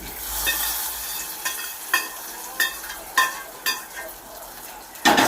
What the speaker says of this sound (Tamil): கருவேப்பிலை போட்டு தாளிச்சிட்டேங்க.